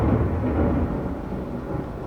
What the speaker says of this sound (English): French doors work great if you wish to throw in a thunderstorm.